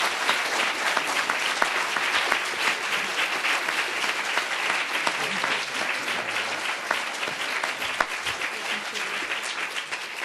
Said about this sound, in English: maybe we could just give a round of applause